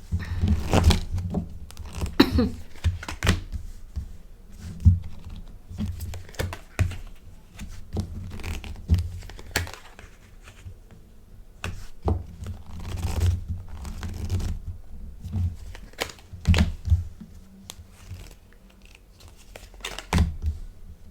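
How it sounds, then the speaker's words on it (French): Tarot cards being picked up and laid out on a table, a busy run of close papery slaps, slides and crinkly rustles with no talking. "je ne sais pas si vous me voyez prendre des cartes"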